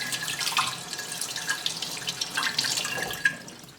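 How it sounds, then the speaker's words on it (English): Running tap water rinses a kitten bottle's nipple and ring, a steady hiss of flowing water with small splashes and drips near the sink, no talking. "Now I pop apart the miracle nipple and the little ring thing and just kind of rinse it a"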